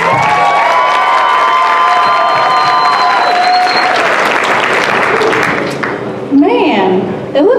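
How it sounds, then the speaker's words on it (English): A student sorority showcase crowd applauds and cheers loudly, with sustained clapping and shouts that fade out after about six seconds, followed by voices talking. "Give another round of applause for Danielle and Verenice."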